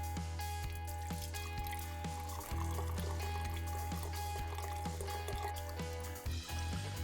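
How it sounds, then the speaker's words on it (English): Blackberry liqueur trickling and splashing through a medium mesh metal strainer into a container, a steady liquid pour over a persistent low hum, with occasional drips and clinks. "take a medium mesh strainer and just pour this through it"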